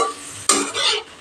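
Prawns fry in hot oil in a pan with a sharp burst of sizzling halfway through as they are stirred, then a steady close hiss that fades toward the end.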